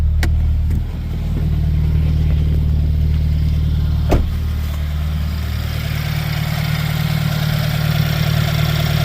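A 2015 Subaru WRX engine idles steadily right after a spark plug change, with a smooth, even low rumble held throughout and a couple of brief sharp clicks near the start and middle.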